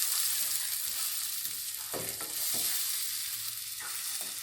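Ground cumin, turmeric and chili powder fry in a pan while being cooked down for a Bengali chitol fish muitha dish. A continuous close sizzle carries a few scraping strokes of a spatula.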